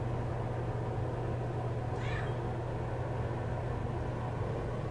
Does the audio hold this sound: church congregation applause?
no